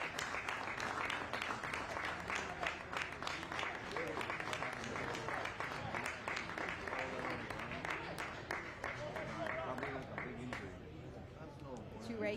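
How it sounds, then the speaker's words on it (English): Spectators at an MLS Next Pro soccer match between Tacoma Defiance and Austin FC II applaud steadily as a player leaves the pitch, with crowd noise and talk running through the clapping. "Toure getting the applause as he walks off the pitch."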